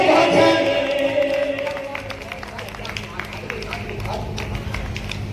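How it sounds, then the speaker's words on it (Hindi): Weak, sparse clapping from a school audience at a college foundation festival, a soft patter of scattered claps under crowd murmur and voices in a large hall, fading unevenly across the stretch. "तालियां कमजोर है।"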